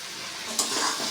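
A spoon stirs bottle gourd curry with chopped coriander in a pan: a soft steady sizzle, then one brief scrape of utensil against metal partway through.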